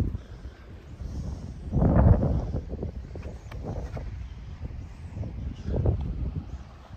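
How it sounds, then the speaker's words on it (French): Wind gusts blow across the microphone on a boat at sea in a bay, with rough bursts rising and falling irregularly and no talking. "Le vent s'est levé"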